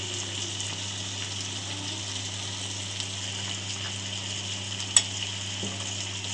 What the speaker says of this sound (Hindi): बहुत अच्छे से अब इसको फ्राई कर लेंगे